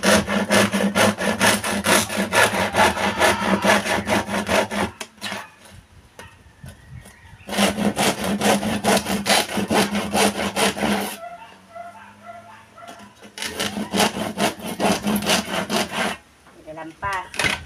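Hand saw cutting wood in three long bouts of fast, rhythmic back-and-forth rasping strokes, loud and close, with short quiet pauses between them.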